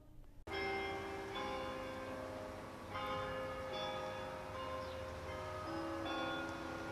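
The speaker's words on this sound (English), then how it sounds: "The sound of church bells across Indiana is a familiar one." Church bells in Indiana, Pennsylvania ring out in overlapping, sustained tolls that start abruptly and resonate loudly and steadily throughout, with no voices.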